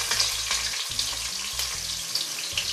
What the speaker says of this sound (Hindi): जीरा फ्राई हो गया है, अब हम ये अनियन इसके अंदर डाल देंगे।